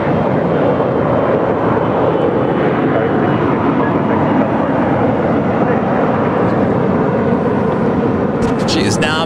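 A jet airliner taxis and turns onto taxiway Lima at Los Angeles International Airport, giving a loud, steady, broadband engine roar that holds unbroken throughout.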